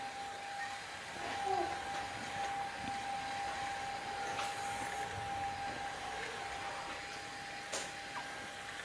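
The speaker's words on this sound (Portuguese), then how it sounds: "Vamos bater no volume máximo até ficar bem firme." A hand-held electric mixer whips egg whites at full speed until stiff, giving a steady motor whine with a constant tone and a broad whirring hiss that runs unbroken throughout, fairly quiet and without speech.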